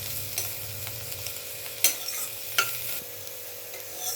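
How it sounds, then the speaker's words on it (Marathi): Bitter gourd stir-fried in a little oil in a kadhai, a low steady sizzle broken by a few sharp scraping strokes of the spatula against the pan, close and alone without talk. "5 मिनटं झाली आहेत आता मला परतून, पण हे अजून परतायला लागेल"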